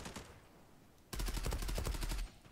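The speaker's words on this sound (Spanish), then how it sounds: "Me están disparando y no sé dónde." Gunfire in the video game Zula Europe: a quiet lead-in, then a sudden, loud string of rapid automatic shots rattling in fast succession for over a second before cutting off.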